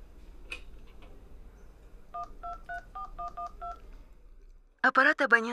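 A telephone being dialed: a run of evenly spaced keypad tones beeps out in a quiet room, followed by a short burst of speech.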